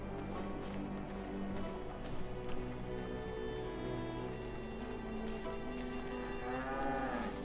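Cows mooing in the video game V Rising: several drawn-out, harmonic moos, some overlapping, carried over a steady layer of game ambience with no talk.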